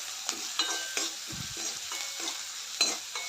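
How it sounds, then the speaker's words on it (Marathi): Ridge gourd vegetable being stir-fried with salt in a pan, a steady close sizzle broken by several sharp scraping strokes of a spatula, with no voices. "मीठ घालून चांगलं परतून घेऊया"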